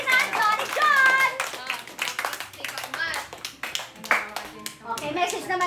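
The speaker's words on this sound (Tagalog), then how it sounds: "Palakpak naman dyan" Hand clapping from a family crowd at a birthday surprise in Villasis, Pangasinan, with voices and cheers mixed into the dense, uneven applause throughout.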